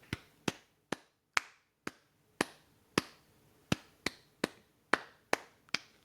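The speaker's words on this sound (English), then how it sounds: "If you've never heard clapping before" A single pair of hands claps about a dozen times, each clap a sharp, crisp, isolated smack at uneven spacing, heard alone and fairly close.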